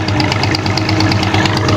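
A tractor engine, push-started, runs close and loud with a rapid, even knocking throb and a steady rumbling idle.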